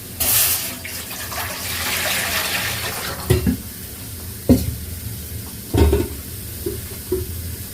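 Water is poured into a cooking pot on a lit stove while making arai keerai kadaiyal, a mashed greens dish, starting with a bright splashing rush, then a steady trickle broken by a few sharp knocks of the pot.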